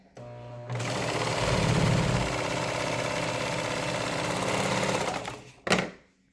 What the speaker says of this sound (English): we're going to come over here to the serger or the sewing machine